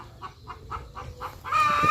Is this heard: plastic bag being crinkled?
no